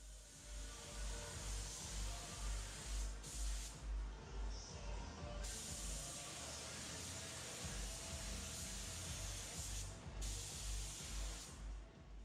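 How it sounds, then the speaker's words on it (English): Steady hissing spray from a paint gun applying single-stage car paint at about 22 psi runs throughout, pulsing with brief pauses, over a low rumbling background; no voices. "We're spraying at about 22 pounds, give or take, and it's coming out fantastic."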